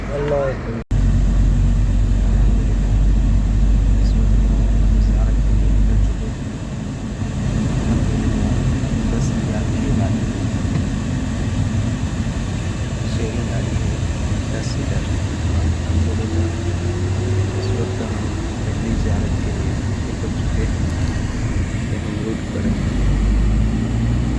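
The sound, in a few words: inside a moving 10-seat van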